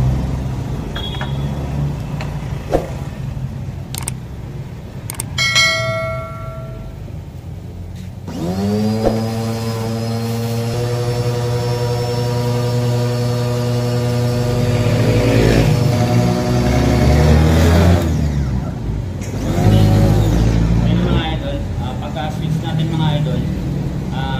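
A Lotus pressure washer's electric motor switches on partway through. It spins up into a steady, droning whine with a rising pitch and stays loud under intermittent talk, and there is clattering handling noise before the start.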